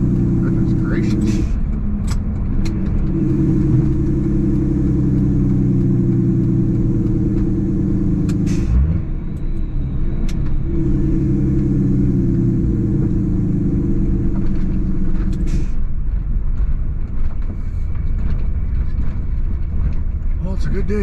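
A Dodge Cummins turbo diesel truck drives along with a steady low engine rumble and wind buffeting, while someone talks over it throughout.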